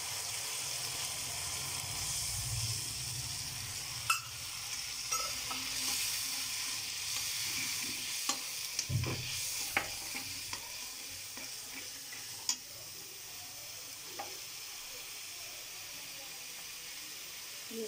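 Garlic and spices sizzle steadily in hot oil for a jackfruit curry, with small clicks and scrapes from stirring scattered through the continuous frying hiss and no voices.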